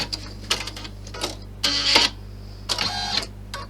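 An embroidery machine stitches an Easter bunny sucker design in bursts of rapid mechanical clattering broken by short pauses, with a steady motor hum underneath, close and fairly loud with no talking.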